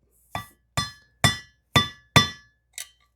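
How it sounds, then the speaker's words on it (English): Six sharp metallic taps from a hammer striking the casting lines on a KTM 390 Duke engine head, evenly spaced and ringing briefly, the last one lighter. "we're basically taking our hammer on those casting lines, giving it a tap"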